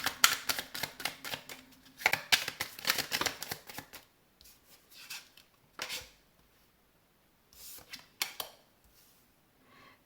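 Petit Lenormand cards being shuffled and drawn, with a dense run of rapid riffling card flicks followed by sparser single snaps and slides of cards, close and crisp, with no talk.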